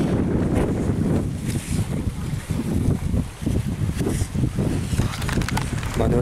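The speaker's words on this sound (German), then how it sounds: "Man hört sogar das Meer." Sea on a Pacific island shore rolls in as a low, surging wash of waves, heavily buffeted by gusty wind noise across the microphone, fairly loud and continuous.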